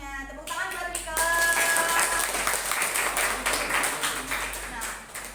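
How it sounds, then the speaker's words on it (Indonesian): A classroom group applauds a student returning to her seat, a dense burst of clapping that starts after a brief voice and stays fairly loud for several seconds before tapering off. "Tepuk tangan buat Mika."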